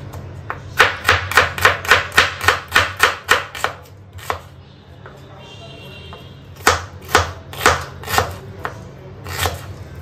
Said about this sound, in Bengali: এবার বাড়িতে পেঁয়াজ কেটে ওর সাথে মেশাবো